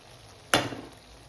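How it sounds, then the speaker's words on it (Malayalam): Bitter gourd sautés in a pan over a medium flame, with one sudden, close sizzling burst that fades quickly into quiet. "ഇത് നമുക്ക് മീഡിയം ഫ്ലെയിമിൽ വെച്ച് ഒന്ന് വഴറ്റിയെടുക്കാം."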